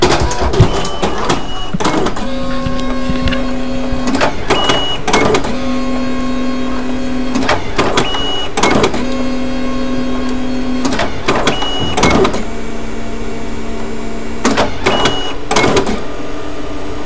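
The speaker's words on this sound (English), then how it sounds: "The printer will take about 25 seconds to print the card" An ID card printer whirs and hums through repeated cycles of mechanical motor runs with steady tonal whines, pausing briefly between passes, close and fairly loud, printing both sides of a card.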